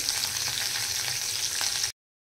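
Fresh coriander leaves fry in a lentil mixture for a sweet offering, with a steady close sizzle and faint stirring that cuts off abruptly.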